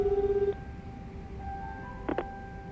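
A phone rings during a call in the video game Like a Dragon: Infinite Wealth, a short repeating electronic ring tone pulsing for about half a second, followed by quieter game sounds and a brief double blip.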